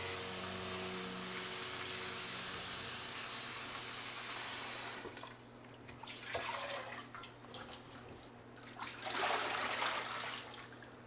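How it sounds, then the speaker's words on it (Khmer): Raw pork and chicken pieces are rinsed under running water, first a steady faint flow, then louder splashing bursts as the meat is moved about in the stream. "រួចយើងលាងសាច់យើងទុក"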